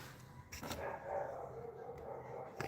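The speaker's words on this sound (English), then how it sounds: "Now I think I hear Nova barking." A dog barks a few times in the distance, faint short yaps standing out against a quiet background hum.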